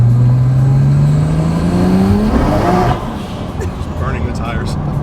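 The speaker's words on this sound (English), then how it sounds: "Just burning the tires." A BMW with a turbocharged N54 engine accelerates hard and burns its tires, the engine note climbing in a loud, close roar before dropping off with a rough, hissing tail.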